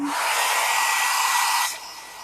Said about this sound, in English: I'll just dry this again with the dryer.